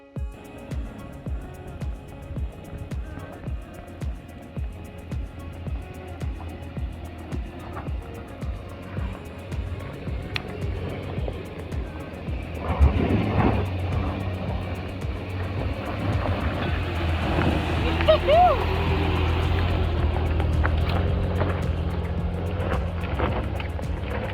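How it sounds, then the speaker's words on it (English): An off-road 4WD grinds up a rough high-country track, its engine a steady loud drone with rhythmic thumps and creaks as it climbs, the revs rising and straining harder partway through. "so it's Shaden's turn to go up the track"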